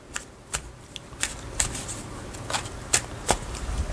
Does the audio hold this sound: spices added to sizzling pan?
no